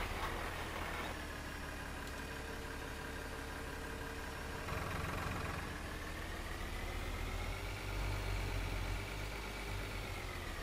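A tractor engine in Farming Simulator 2013 hums at a steady idle, with a tone that slowly rises and falls as the throttle shifts, faint and continuous with no voices.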